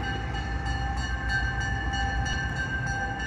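A Buckingham Branch freight train heading eastbound in Charlottesville, Virginia, rumbles past at a moderate distance with steady rolling noise and a faint high tonal whine, no voices.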